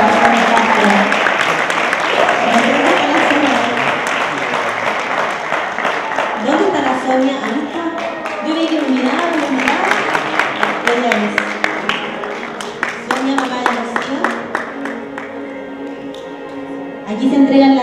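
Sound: audience applause

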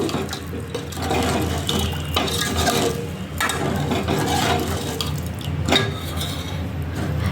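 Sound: stirring horse gram sambar with water

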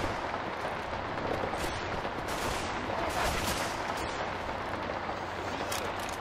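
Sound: gunfire in the video game Left 4 Dead 2

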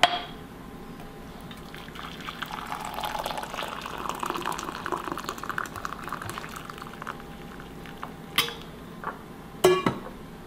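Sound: pouring two cups of hot water over gelatin

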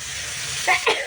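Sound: water added to frying spiced masala, sizzling

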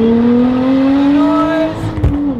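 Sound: Lotus Exige Sport 380 engine accelerating

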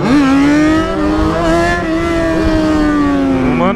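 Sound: motorcycle engine revving

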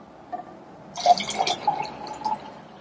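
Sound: pouring cold water into lemonade

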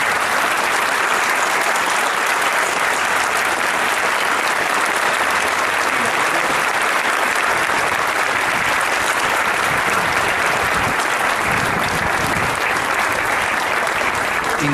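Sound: applause honouring the heroes of the Belgrano and San Juan

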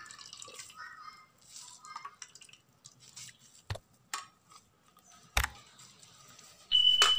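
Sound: water squeezed out of grated tapioca dripping

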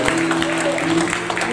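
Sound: congregation hand clapping in praise

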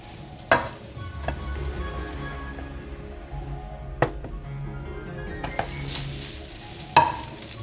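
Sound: cabbage pizza base frying in pan

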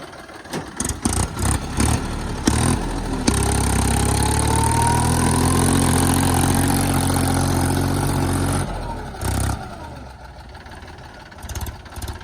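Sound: tractor engine running

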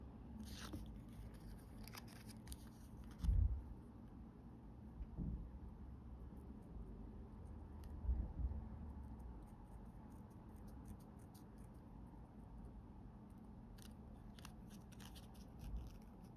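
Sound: cutting with scissors

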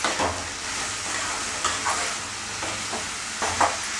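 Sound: stirring spiced pakoda curry mixture in a pan

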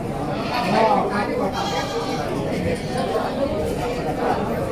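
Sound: goats bleating at a goat market

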